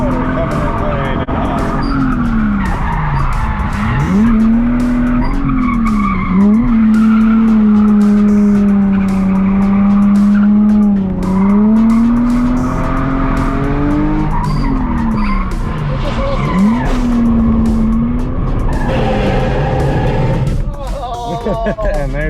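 A car drifts at a championship drift final, its tires squealing loudly and almost continuously while the engine rises and falls through repeated slides.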